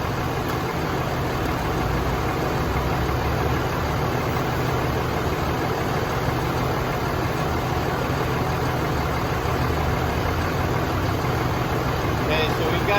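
A Dodge truck with a 48RE automatic transmission, at about 91 degrees during a 3,000 service, runs through its gears as a steady, unbroken engine drone holds at an even level throughout.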